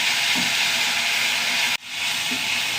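Tomato sautéing in a pan with curry leaves gives a steady, close sizzle that runs throughout, with a brief drop in level partway through.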